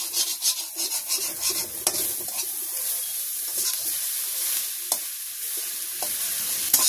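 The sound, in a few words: stirring fried onion and garlic in a pan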